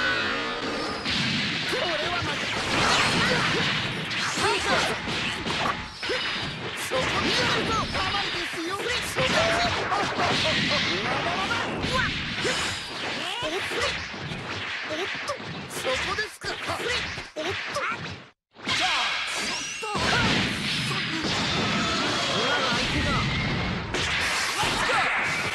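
Dragon Ball FighterZ combat blasts along in a dense, loud stream of whooshes, smacks, crashes and thuds with voices mixed in, cut by one abrupt silent gap before the onslaught resumes.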